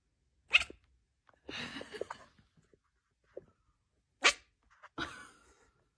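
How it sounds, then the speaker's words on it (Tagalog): A pet cat barking like a dog, giving several sharp, separate bark-like yelps spaced across the moment, fairly close and otherwise quiet. "Imbis kasi na meow, aba ang fur baby tumahol na parang aso?"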